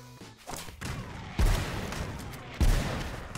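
Gunfire in the video game Gang Beasts booms out as two heavy, low blasts about a second apart, loud and close over a busy game-sound background.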